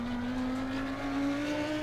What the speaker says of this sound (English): You can see I'm already full throttle.